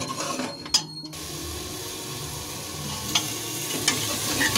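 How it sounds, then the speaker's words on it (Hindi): Masala spices frying in oil for Punjabi rajma, a steady close sizzle with stirring scrapes and a few sharp clinks of the utensil against the pan. "जब तक ये हमारा मसाला अच्छे से भून ना जाए और ऑयल ना छोड़ दे, तब तक हमें इसे भूनना है मसाले को।"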